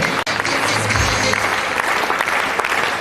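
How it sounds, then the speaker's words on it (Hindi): A seminar audience at an RCM business talk breaks into strong applause, a dense wash of many hands clapping steadily, with a brief voice surfacing near the start. "एक बार इनके लिए जोरदार तालियां प्लीज"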